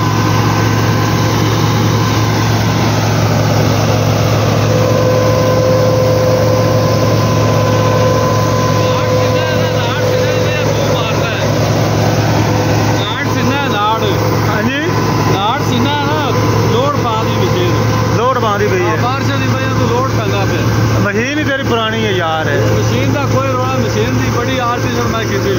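A Massey Ferguson MF 385 tractor engine drones steadily and loud, pulling a chopper machine, with a constant low hum throughout while someone talks over it for most of the stretch.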